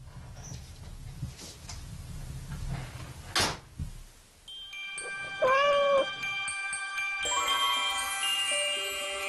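Cats meowing inside an apartment full of books, a clear drawn-out meow rising and falling, with knocks and shuffling first and a tonal chiming sound layered in later.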